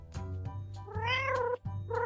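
A cat meows in a children's fairy tale, giving two clear, close, drawn-out meows over a steady low background hum, with a brief pause between them.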